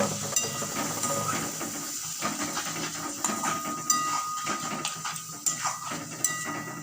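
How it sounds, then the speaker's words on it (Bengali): A spice paste of chilli, turmeric and cumin powders hisses and sizzles in a pan as a little water is added while cooking young jackfruit dalna. The steamy sizzle is continuous and close, with small crackling bursts throughout. "সামান্য পরিমাণে একটু জল দিয়ে মশলাটাকে কষিয়ে নেব"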